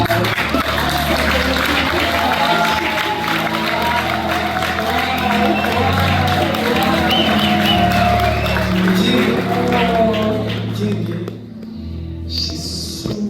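A church congregation applauds and cheers in a steady, loud wash of clapping and raised voices that continues for about eleven seconds before thinning out.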